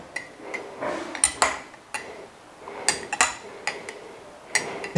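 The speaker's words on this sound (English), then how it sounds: "Make sure that you mix very well to make it more interesting" A spoon clinks and scrapes against a bowl while a natural honey recipe is mixed, with irregular close taps and clinks at a moderate level and no talk.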